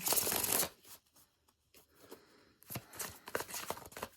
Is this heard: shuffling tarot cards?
yes